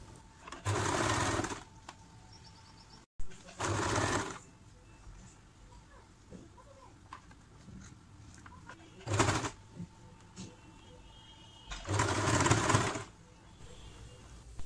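A sewing machine stitches a nighty in four bursts of rapid whirring separated by pauses, with pigeons cooing faintly in the background.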